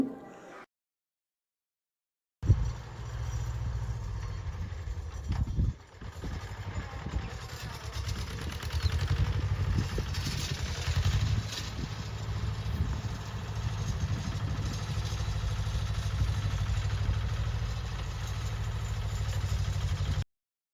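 A steady, rumbling tractor engine runs continuously at close range in a field after a brief quiet start, with a low, even drone and some clattering.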